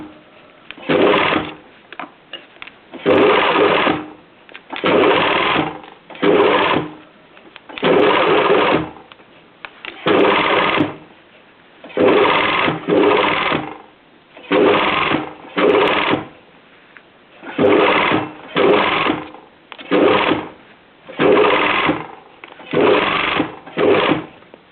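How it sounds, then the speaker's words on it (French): A sewing machine stitches all the way around a bias binding straddling a fabric edge, running in short, loud, even bursts with brief pauses between them. "Je vais donc coudre tout autour, en prenant comme repère le bord du pied de ma machine."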